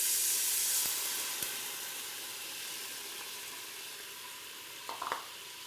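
Worcestershire sauce and beef stock hit a pan of browned meat and onions for sour cream pork chops in a Ninja Foodi or Instant Pot. A faint, even hiss and sizzle follows, with a couple of light clinks near the end.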